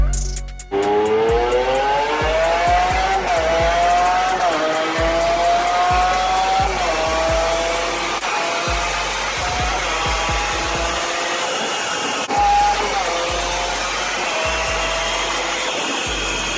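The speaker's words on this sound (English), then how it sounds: "Car that you just heard was the Lamborghini Aventador, and it might be the last naturally aspirated V12 from Lamborghini ever." A Lamborghini Aventador's naturally aspirated V12 revs loud and close, its pitch climbing in repeated sweeps over sustained roaring engine noise, with no talking.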